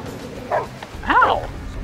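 A dog gives two short yipping barks, the second longer and wavering, close and moderately loud over a light background.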